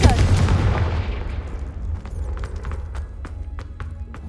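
Confringo fire spell blast in the video game Hogwarts Legacy, a loud booming burst that decays into a crackling tail with scattered sharp pops, heard alone.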